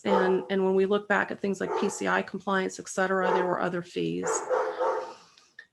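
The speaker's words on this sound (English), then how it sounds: "I apologize if you can hear my dogs barking in the background" Dogs bark in the background, faint and intermittent, beneath someone speaking continuously in the foreground.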